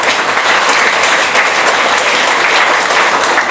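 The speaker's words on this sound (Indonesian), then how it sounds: "Tepuk tangan untuk kita semua." An audience at a school program event in Indonesia breaks into sustained applause, a loud, even roar of many hands clapping with no break.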